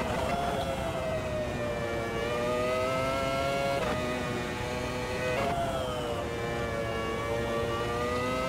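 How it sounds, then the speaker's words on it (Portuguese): A race car engine in the Automobilista 2 racing game drones loud and steady, its pitch rising through the gears with short dips at each shift, and no voices are heard. "Eu gostei do som desse carro"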